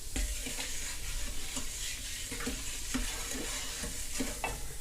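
A homemade fabric softener mixture fizzes and bubbles up in a bowl, a dense, steady crackling hiss with small irregular pops throughout, close and without voices.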